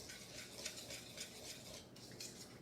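A whisk working dry ingredients around a bowl for a tart, a quiet, rhythmic scratchy swishing of regular strokes, close up with no voices.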